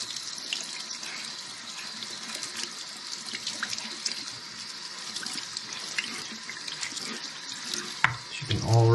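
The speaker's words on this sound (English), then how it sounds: "Turn this water off." Water runs steadily from a tap while a laser-cut acrylic sheet is rinsed by hand, a close hissing splash with small shifts as the piece moves, then a clunk and change near the end.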